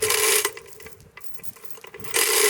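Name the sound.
ratcheting a pulling tool to tighten line on tree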